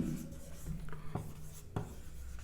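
Pen scratching across paper or a board while a math problem is worked out, a steady low rub broken by a few sharp strokes, close and fairly quiet, with no talking.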